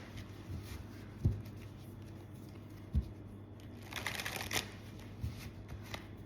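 Tarot cards being handled and drawn make soft, close shuffling and sliding noises, with a few sharper taps as cards are set down.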